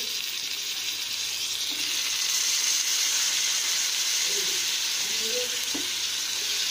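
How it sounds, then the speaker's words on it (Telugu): Fish pieces frying in masala in a covered pan, giving a steady, continuous sizzle and hiss from close by that runs throughout with no talking. "మూత పెట్టుకొని ఒక 2 నిమిషాలు వీటిని ఇలా ఫ్రై చేసుకోవాలి."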